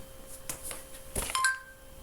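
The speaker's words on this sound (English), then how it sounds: "Samsung ringtone." A Samsung phone ringtone: a short run of bright, chiming electronic tones with a sustained pitched note and a quick ascending flourish at the end, heard clearly on its own.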